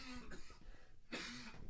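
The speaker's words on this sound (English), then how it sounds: "I'm having a coughing attack here." Two quick, very faint coughing bursts, the second harsher, sounding close but quiet in a still room.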